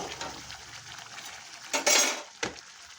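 Pieces of chicken leg dropped into a pan of oil-slick fried spices while cooking chicken kosha, a burst of clinking and sizzling splash near the end after quiet kitchen clatter, with no talk.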